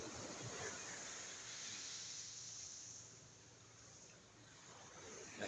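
Surf washing onto a seashore by a fishing village with boats, heard as a steady broadband wash that swells and eases, close and fairly loud with no voices.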